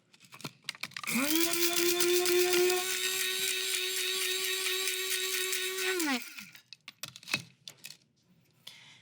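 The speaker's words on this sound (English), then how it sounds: "for this small amount, a spice grinder does the trick" A small electric spice grinder whirs loudly and steadily for about five seconds as it pulverizes tea leaves into fine powder, then cuts off, leaving a few light knocks and handling sounds.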